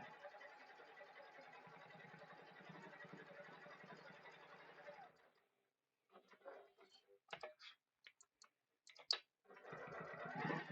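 A sewing machine runs a steady stretch of large basting stitches along the sides and bottom of a fabric bag, then stops; a few scattered clicks and handling sounds follow before the motor hums again briefly.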